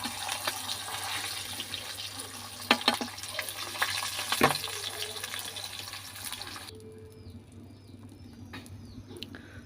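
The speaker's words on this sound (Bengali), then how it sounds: "তো একে একে আমি সব মাছগুলো ভেজে নিলাম" Katla fish pieces fry in oil over a clay stove, giving a steady broadband sizzle with scattered pops and a few utensil clinks; the frying drops away sharply near the end, leaving quieter background.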